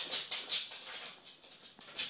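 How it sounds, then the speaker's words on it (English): Dog nosing and digging around in a food bowl, a run of soft scraping, rattling bursts repeating irregularly at close range, with no talk. "He, for some reason, cannot eat without digging around his food bowl."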